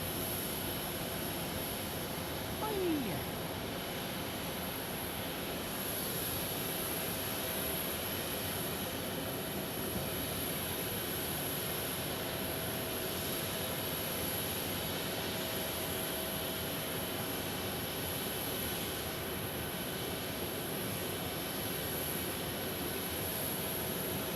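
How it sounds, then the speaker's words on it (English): Aircraft engines of a Swearingen Metroliner at an airport make a steady, continuous roar and whine with a constant high tone, heard alone from a distance for the whole stretch. "So here's the Swear plane, the Swearingen Metroliner."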